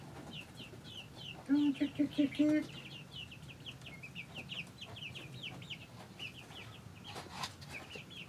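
Young chickens cluck and peep softly in a steady chorus, with a short run of rhythmic clucks standing out clearly near the start.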